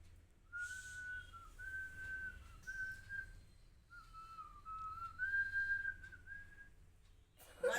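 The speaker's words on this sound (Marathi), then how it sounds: "शिट्टी वाजवून सांगतात का?" A child whistles through pursed lips at home, a steady run of sustained tonal notes with short breaths between them, moderately close and alone.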